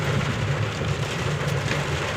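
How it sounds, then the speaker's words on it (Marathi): Steady rain falling in a village, a continuous even hiss with no voices, heard close and fairly loud throughout. "मस्त पाऊस पडतोय"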